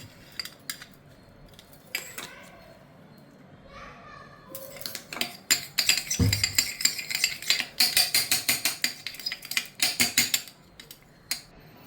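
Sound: stirring coconut oil mixture with a spoon

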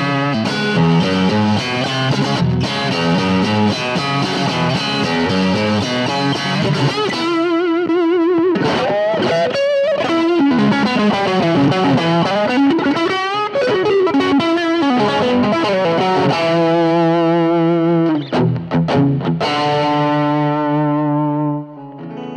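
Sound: electric guitar through boutique amp, hot country clean tone

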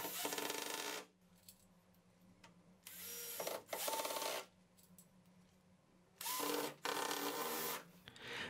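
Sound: power drill driving screws into a hinge

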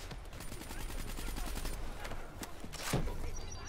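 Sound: gunfire in the video game Black Ops 3 campaign

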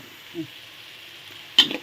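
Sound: stir-frying in a pan

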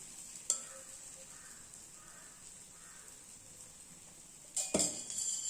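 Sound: dosa batter frying in oil on griddle

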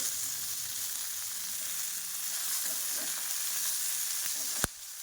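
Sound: green chillies roasting in a pan for thecha

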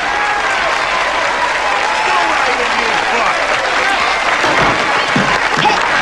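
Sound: applause for a retired congressman

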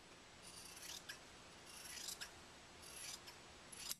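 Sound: cutting quilt binding along a drawn line

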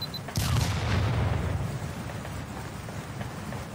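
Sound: sink exploding in video game

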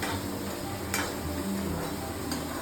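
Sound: onions being sautéed slowly in a pan

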